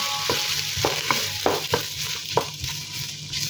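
Onions browning in hot oil in a pan sizzle steadily at close range, punctuated by a series of sharp stirring scrapes and knocks, with no voices.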